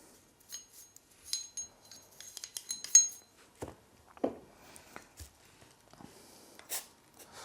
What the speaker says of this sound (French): on va brosser un peu, virer les résidus un peu gros